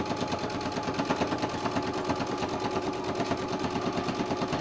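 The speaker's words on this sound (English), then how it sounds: "stitch that, and I'm gonna back stitch that real good." Sewing machine stitching fabric for a microwave bowl cozy, then back-stitching, a steady rapid mechanical whir with a fast rhythmic needle clatter running close and continuous throughout.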